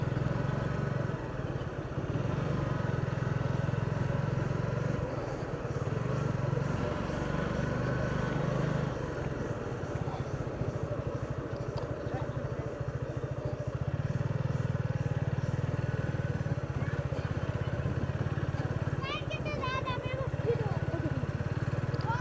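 A motorcycle rides along a village road in Khadabhora, Beanibazar, Sylhet, its engine a continuous low drone running throughout while a person talks over it.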